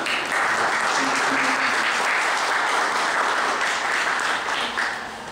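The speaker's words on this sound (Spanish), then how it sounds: "recibamos un fuerte aplauso por la calidad y la capacidad" Strong applause from an audience at a customs lecture in a university law faculty in Lima, greeting the speaker: loud, continuous clapping that holds steady and then tapers slightly at the end.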